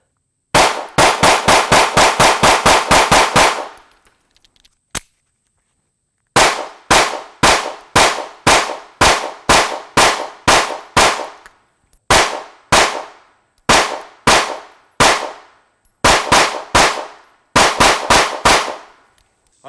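Rapid strings of sharp, loud Sig P365 pistol shots during a 1000-round shooting session, fired in quick bursts of about six to ten rounds with short pauses between magazines, close and alone.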